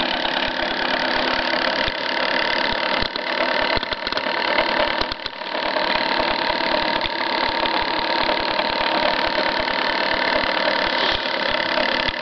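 A homemade pulse motor switched by a magnetic reed switch runs steadily with a fast, buzzing hum and rattling vibration, close and continuous throughout with a brief dip midway.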